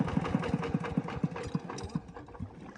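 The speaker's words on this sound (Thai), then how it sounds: "ดับเครื่องก่อนครับดับเครื่องก่อน" An engine running beside an old pond that is being drained, giving a close, steady, rhythmic chugging of about five beats per second. It loosens and thins somewhat toward the end.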